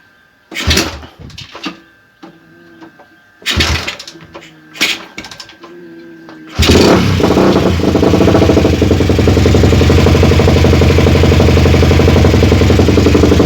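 A Suzuki Satria FU motorcycle fitted with a Shogun CDI starts after a few short clattering bursts, then settles into a loud, steady, continuous engine run that fills the rest of the clip.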